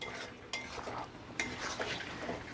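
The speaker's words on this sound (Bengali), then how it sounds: "এবার এটাকে ভালো করে কষাতে হবে।" Shrimp being stirred and sautéed in a pan while cooking echor chingri, jackfruit with shrimp: faint scraping clinks of a spatula against the pan over a soft steady sizzle, close and quiet.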